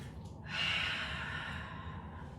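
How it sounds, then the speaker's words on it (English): A single slow, deep breath during a gentle yoga flow, a soft airy exhale swelling and fading over a couple of seconds, close and quiet against a calm background. "Big deep breaths"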